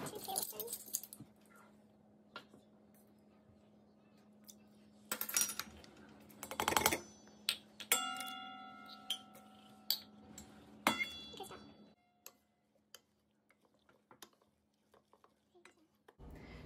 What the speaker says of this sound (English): In a medium bowl, we're gonna combine salt and onion, lime juice, tomato, and cilantro.